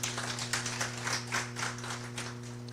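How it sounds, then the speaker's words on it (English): Audience at an Africa Day celebration in Washington DC clapping, a dense, even patter of many hands heard from the room over a steady low electrical hum, fairly quiet and continuous. "Give her a big round of applause."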